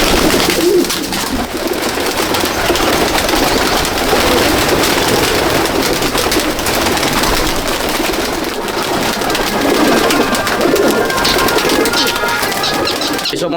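Andhra pigeons coo steadily in a loft at Shyamnagar, a dense chorus of soft, overlapping calls held under a constant hiss like rain.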